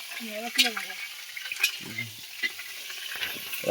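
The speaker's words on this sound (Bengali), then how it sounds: "এটা ফুলকপিটা ভেজে নিচ্ছে" Cauliflower frying in a pan for a festive home-cooked vegetable dish, with a steady crackling sizzle throughout and faint voices talking in the background.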